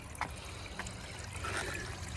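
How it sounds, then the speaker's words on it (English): Water trickles and splashes steadily in a backyard pondless waterfall, a soft, fairly close running stream with a few brief louder spatters and no talk. "So we got some running water."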